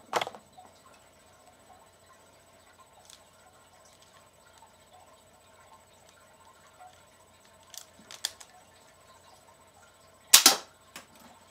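A K'nex M16 replica toy gun fires a few times: a sharp snap near the start, a couple of light clicks around the middle, and a louder crack near the end, with quiet mechanical handling between.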